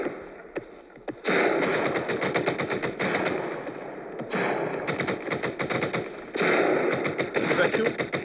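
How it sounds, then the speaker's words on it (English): Rapid shotgun and gunfire bursts ring out in a Nakamoto Games web shooter video game, loud clustered volleys separated by short quieter gaps, with background game sounds. "That shotgun!"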